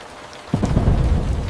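Steady rain hisses, then a deep rumble of thunder rolls in about halfway through and stays loud and close under the downpour.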